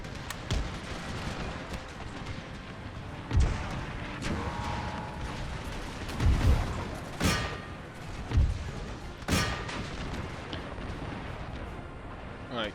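Musket gunfire and artillery in an Empire: Total War battle, scattered deep booms and sharp cracks over a dense background rumble, with a voice talking over it.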